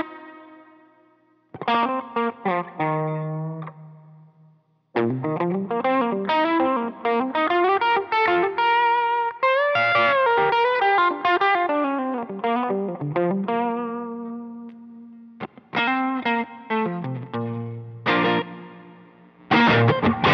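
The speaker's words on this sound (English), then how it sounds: "let me roll the volume back on my guitar just so you guys can see how this cleans up" Electric guitar played through a Universal Audio OX amp top box with the guitar volume rolled back, slightly crunchy chords and single-note lines with chorus and plate reverb, loud and upfront, pausing between phrases.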